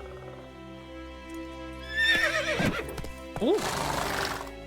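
Roach, Geralt's horse in The Witcher game, gives two loud whinnies in succession, with hoof clip-clops beneath and a brief voice exclamation among steady game ambience.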